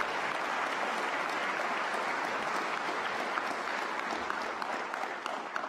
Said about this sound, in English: Let's give those student athletes a big round of applause.